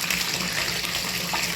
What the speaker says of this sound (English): So just starting up the water there.